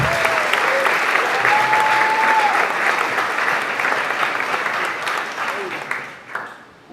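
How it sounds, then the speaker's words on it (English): A large audience at a hackathon league conference claps loudly and continuously, a broad wash of applause with a few voices calling out, gradually thinning and fading toward the end. "Give yourselves a huge round of applause"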